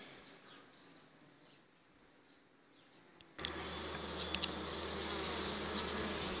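Buckfast honey bees buzzing around a hive: faint insect hum at first, then a sudden louder, steady droning swarm that continues to the end.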